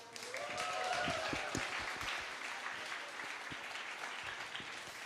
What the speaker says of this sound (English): We keep the applause going.